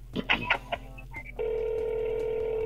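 Brief muffled sounds give way to a steady electronic telephone ring tone coming through a phone line, continuing to the end.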